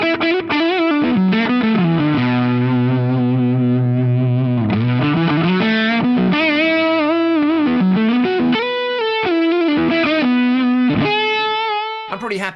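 Electric guitar run through stacked fuzz drives on a Fractal FM3, playing a loud, saturated, sustained line of chords and bending notes with thick breakup, continuous for several seconds without talk.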